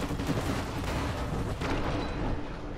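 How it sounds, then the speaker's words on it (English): Napalm strike explosions in Fallout New Vegas: a dense, continuous roar of blasts and rumbling fire fills the whole short stretch, loud and steady with no voices. "So how about the napalm strike?"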